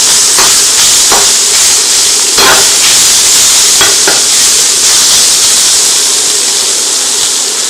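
Soy curls browning in a lightly oiled frying pan, giving a steady broadband sizzle throughout with a few brief scrape or stir clicks, close and fairly loud, no voices.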